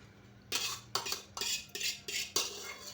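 A metal ladle scoops cooked mutton out of a pot into oil with roasted spices for a Kolhapuri dry mutton dish, making about six sharp scraping clinks in an uneven rhythm, close and clear, with no talking.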